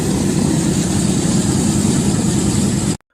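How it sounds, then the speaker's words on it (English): A World War II–era C-47 radial engine starting up after ten years idle, giving a loud, steady, rough low rumble with a broad roar that holds constant for about three seconds before cutting off abruptly. "This C-47 beauty since World War II is waking up for the first time in 10 years"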